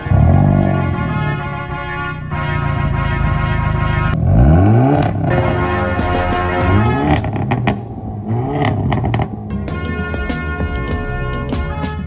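A tuned Hyundai Elantra N and a Ford Mustang GT race, with loud close engine revving and repeated rising acceleration sweeps through the gears, plus a brief clatter, over about twelve seconds with no talk.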